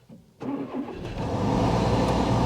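A Renault Megane Extreme VVT 111 with about 99,952 miles fires up on its spare key: a brief crank catches into a running engine that settles into a steady, close idle and rises slightly, with no speech.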